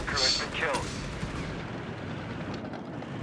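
Machine gun fire and explosions sound in the video game Company of Heroes 3, a loud booming burst at the start settling into a rumbling battle din, under someone commentating.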